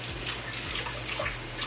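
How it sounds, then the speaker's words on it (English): Running tap water pours steadily into and over a Tupperware bin being rinsed, a loud continuous splashing hiss with low rhythmic thuds from the plastic, close up and with no talking. "I'll just give it a rinse with the water."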